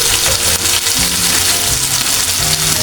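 Ginger-garlic paste and a spoonful of turmeric powder hit hot oil for an egg and eggplant curry, giving a dense, steady crackling sizzle that runs without a break at close range, with no voices.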